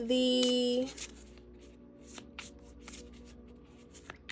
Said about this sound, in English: Okay, these cards look so pretty. Okay, I feel like they just shuffle.